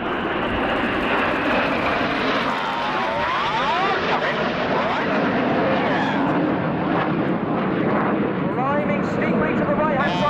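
Red Arrows BAE Hawk T1 jets roar through an air display at RIAT 2017, a loud continuous jet rumble that swells and shifts as they pass, with a commentator talking over it.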